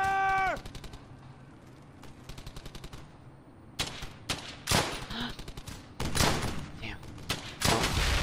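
Repeated bursts of automatic gunfire from a World War II shooter game, Brothers in Arms: Hell's Highway, with rapid rattling volleys and louder, closer blasts later on, accompanied by game music and shouted voices.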